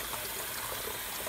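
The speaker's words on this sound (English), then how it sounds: "Turn on the hot water too." Hot water running from a tap into a compact twin-tub portable mini washing machine, a soft, steady trickling flow close by, with no voices.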